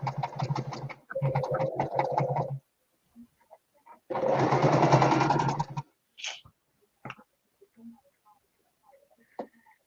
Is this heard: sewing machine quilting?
yes